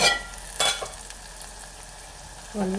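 Ginger garlic paste frying in oil in a pan for a brinjal tomato curry, a steady soft sizzle broken by a few sharp stirring scrapes and clinks near the start, with a short voice toward the end.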